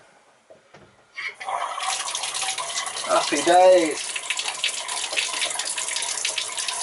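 Water gushes from a tap after a pump refills the water system, starting abruptly and then running as a steady, fairly loud rush while someone speaks briefly over it.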